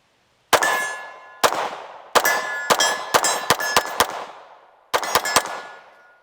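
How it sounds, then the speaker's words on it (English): Loud, close gunshots from a Springfield Echelon Comp compensated pistol: a single shot, another, then a fast string of about six rounds, and a final burst of three, each ringing out with a sharp crack and metallic tail. "So let's shoot that comped version."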